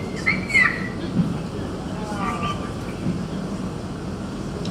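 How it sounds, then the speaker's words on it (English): Whistled language used for communication in a Turkish village, with a few short rising and falling whistles over steady background noise, heard alongside people talking. "This village in Turkey communicate like birds. They use whistle to communicate."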